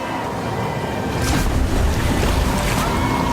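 Rushing river current streams steadily and close by, a broad continuous wash that swells louder partway through, with no voices over it.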